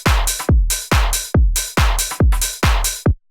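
A punchy electronic drum loop with deep kicks and crisp hi-hats quantized on grid in a steady, even dance groove, loud and dry with no voices.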